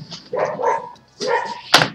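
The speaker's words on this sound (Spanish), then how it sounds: "Y ahora el perro del vecino." A neighbour's dog barks a few times nearby, short sharp woofs in quick bursts with brief gaps between them, heard alone without talking.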